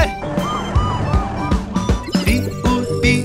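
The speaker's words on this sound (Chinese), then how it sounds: "拉响警报，发现目标别想逃。" Alarm siren wailing in a kids' cartoon song about cars, a rising-and-falling tone repeating over bouncy music with percussive hits and jingles.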